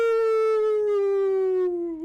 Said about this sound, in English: you hear the piercing howl